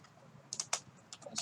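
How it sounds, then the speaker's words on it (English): A few quick, crisp keystrokes on a computer keyboard while entering code in a Jupyter Notebook, close and fairly quiet, in an irregular cluster. "So I'm going to type here something like print like"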